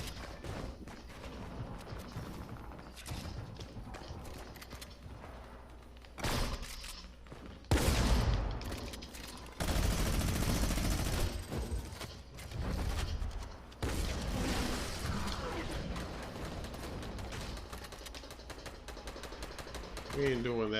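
Fortnite gunfire on Nintendo Switch, scattered rapid shots and bursts, louder bursts midway, mixed with game sounds while people talk over much of it.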